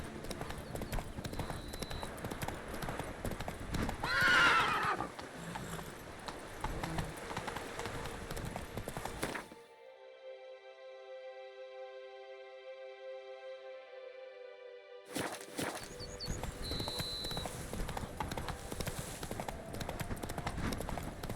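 Hooves of a galloping horse in The Witcher 3, a steady rapid clip-clop under game ambience and music, interrupted by a quiet stretch of tonal hum before the galloping resumes.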